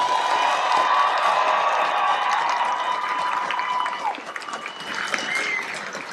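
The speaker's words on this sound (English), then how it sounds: "give a round of applause to this dedicated team of professionals" Loud, steady applause from a crowd at a military training squadron ceremony, over a continuous background hum, with a few scattered cheers and whistles near the end.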